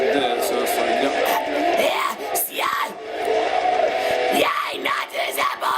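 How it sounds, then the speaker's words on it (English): Harsh vocal screaming in a metal style, loud and sustained across the clip with short breaks between strained, raspy bursts, performed alone as a demonstration of the technique. "once you get it down, you can scream a lot like this"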